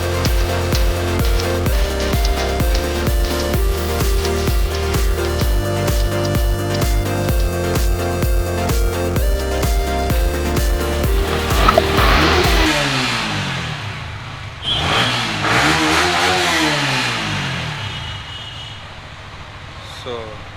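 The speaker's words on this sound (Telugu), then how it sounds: "ఒకసారి కేటీఎం అయితే ఆన్ చేస్తున్నాం." A KTM motorcycle engine fires up and revs repeatedly at a bike shop. A long steady idle gives way to sharp rising and falling throttle blips, loud and close, with people talking around it.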